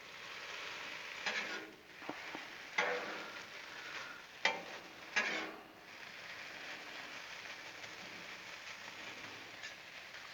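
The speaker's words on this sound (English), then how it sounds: "every now and then come through here and kind of just give it a stir" Ham sizzles faintly on a Blackstone griddle for hot ham and cheese, with a low continuous frying hiss broken by a few scraping stirs of a spatula in the middle.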